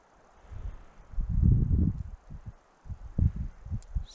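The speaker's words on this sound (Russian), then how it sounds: "Ветрище. Насквозь продувает." Strong gusts of wind at a taiga lake in about -6 degree cold buffet the microphone, producing low rumbling surges that swell and fade in uneven bursts, with no voices.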